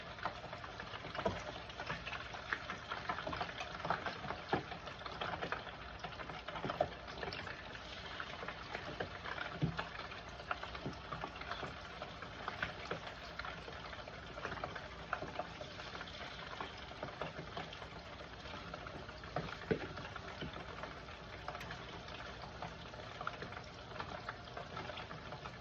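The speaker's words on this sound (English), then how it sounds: "now that I placed half of my wings in, I'm going to let these cook until they rise up to the top" About a dozen chicken wings deep-frying in a pot of oil, giving a steady, dense bubbling sizzle with occasional pops throughout, no voices.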